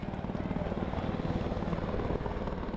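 Helicopter flying, a steady, loud rotor thrum with dense low pulsing that fills the whole stretch without a break.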